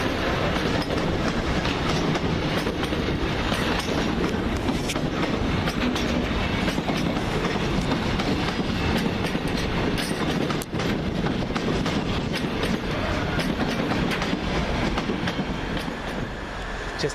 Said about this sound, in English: Mini freight train at that.